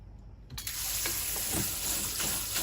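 Water from a tap starts suddenly and runs in a steady, faint splashing stream over beans being rinsed in a kitchen.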